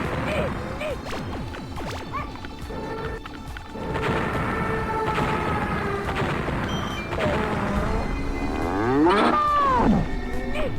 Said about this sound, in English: The cow noise is, I think that might be when you gain 3 miles per hour or more in one go.